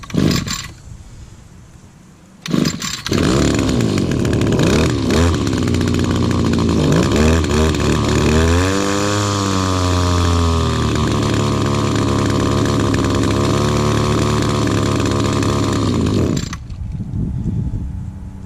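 An Echo or Stihl chainsaw engine that will not stay running off the throttle fires up after a couple of short pulls, then runs loud and close for about fourteen seconds, its pitch rising and falling with the throttle before cutting out abruptly.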